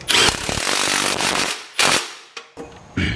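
An impact tool hammers in loud bursts while tightening a bolt on a new lower control arm of a turbocharged Honda Accord, with short rattling pulses separated by pauses, close by.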